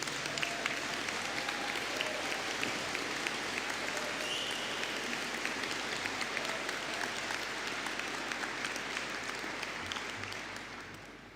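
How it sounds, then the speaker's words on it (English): Sustained applause from a large crowd at a university graduation ceremony, a dense steady patter of clapping that holds for several seconds before gradually fading away. "Please give them a round of applause."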